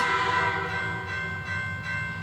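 A train rumbles past with a steady low roar and a high metallic whine, loud and continuous throughout with no voices.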